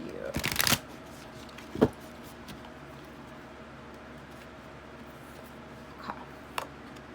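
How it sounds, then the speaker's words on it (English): Tarot cards are given a quick shuffle, with a dense riffling burst near the start, then a single sharp snap and a few faint taps and clicks over low room hiss. "let me just do one more quick little shuffle here."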